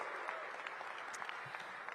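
Steady applause from a crowd at an outdoor groundbreaking for the Capital One Arena redevelopment, directed at Washington Wizards players, faint and continuous with dense overlapping claps.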